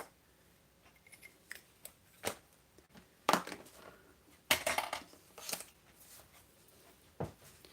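Craft snips are picked up and handled on a crafting table, giving scattered faint metallic clicks and a few sharper snipping snaps at irregular intervals amid otherwise quiet surroundings.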